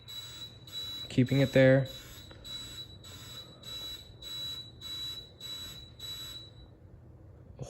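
An elevator door nudge beeper sounds a run of regular, evenly spaced high-pitched beeps that stop partway through, with a brief spoken phrase near the start over a low hum.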